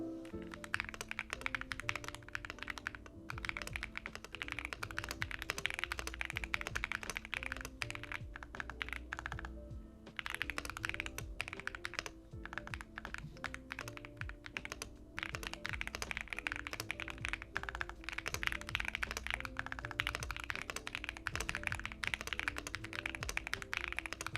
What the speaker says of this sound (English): here's around a minute of me just using the keyboard to type on monkey type